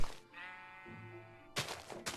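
A Minecraft sheep gives a single drawn-out bleat with a wavering harmonic tone, clear and close, followed by short bursts of blocky game noise.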